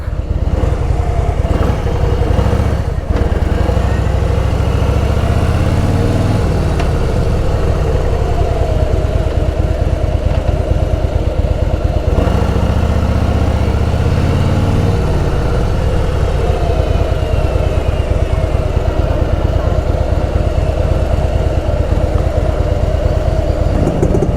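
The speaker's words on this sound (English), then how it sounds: "That's a sound you don't hear much. The Yazdi. Nice motorcycle." A Yezdi motorcycle engine idles close by with a steady, throbbing putter that pulses slightly and swells briefly a couple of times, with no voices.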